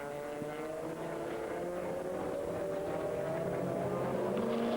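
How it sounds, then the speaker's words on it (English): Chrysler Viper GTSR and other GT race cars of the 2001 FIA GT championship roar past on a circuit, steady loud engine drone with rising and shifting pitch throughout, no talk. "There's Jeroen Bleekemolen again with the Chrysler Viper GTSR"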